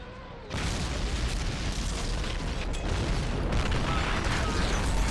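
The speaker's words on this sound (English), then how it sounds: "Enemy artillery coming in. Nebelwerfer 41." Heavy Nebelwerfer 41 rocket artillery barrage in the WWII strategy game Men of War: Assault Squad 2, a sudden loud onset of dense, continuous rumbling blasts and booms that hold steady throughout.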